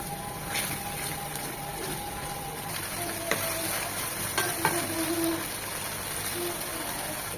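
Ground onion and spice paste fries in a pan for a prawn curry, giving a steady, even sizzle with a few soft clinks of the stirring spoon and no talking.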